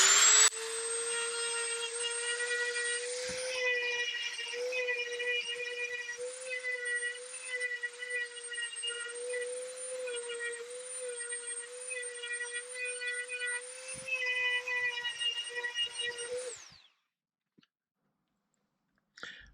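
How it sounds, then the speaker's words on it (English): A Dremel rotary tool cuts steadily at high speed with a shrill, whining tone and small pitch wobbles as it bites, running continuously for about sixteen seconds close by before spinning down and stopping. "we're going to try the old Dremel"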